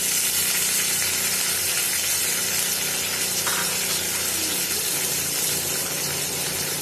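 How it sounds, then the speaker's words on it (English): Curry leaves sizzling in hot ghee in an earthen pot for mutton curry, a dense continuous crackling hiss that stays loud and steady throughout. "in the same ghee, we are going to add up some curry leaves"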